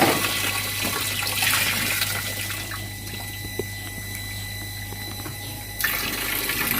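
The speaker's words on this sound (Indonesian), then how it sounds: "Jadi ngalir ya, airnya ngalir." Water flowing out of a Samsung digital washing machine under repair, a steady close rush and trickle that dips partway and swells again near the end, with no speech.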